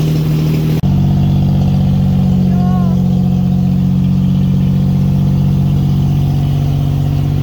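A 1945 Jaguar MkIV engine running at a steady idle, a loud, close, even low rumble that starts abruptly after a brief burst of noise and holds for several seconds with no talking.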